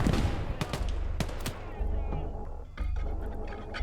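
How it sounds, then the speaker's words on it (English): Anti-tank gun fire in Gates of Hell: Ostfront, a WWII game set in Finland, with several sharp, loud blasts spaced over a few seconds against a steady low engine rumble, and a voice talking in between. "they got an anti-tank gun."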